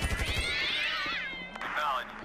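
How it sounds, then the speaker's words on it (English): A high, synthetic cat meow from a modded cat cannon in Grand Theft Auto V rises and falls, followed by a second shorter meow, with a voice talking briefly at the start. "They make the little cat noise, which is pretty cool. They're little meow."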